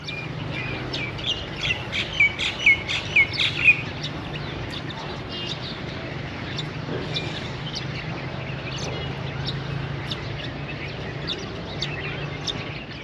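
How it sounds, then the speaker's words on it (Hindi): Several bird chirps in a brief cluster, then quieter scattered calls over a steady low ambient hum, at Chicho Ki Mallian railway station. "सबसे पहली चीज़ जो मैंने इधर महसूस की वो मुख्तलिफ परिंदों की आवाज़ें थीं"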